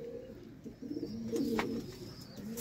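Pigeons coo softly in a series of low, rolling calls, fairly close, with faint background chatter of other birds and no speech.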